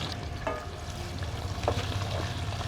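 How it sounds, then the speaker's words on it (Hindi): Chopped medium onions fry in hot ghee in a kadhai with a moderate, even sizzle. A few stirring scrapes sound during it, and there is no speech. "घी हमारा गर्म हो चुका है, इसमें डालेंगे तकरीबन 3 दाने दरमियाना साइज़ के कटे हुए प्याज"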